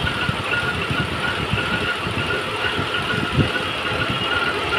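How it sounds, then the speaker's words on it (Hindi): Renault Kwid 1000cc engine running on CNG, idling with noticeable vibration; a steady low rumble with irregular knocking pulses, fairly close and continuous, no speech. "वाइब्रेशन देखो इंजन का।"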